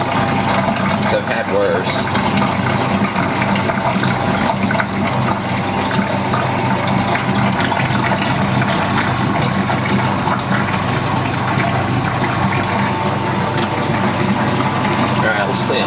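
Whirlpool washing machine pump draining water with a loud, steady gushing and motor hum that runs unbroken throughout, with a person speaking briefly over it.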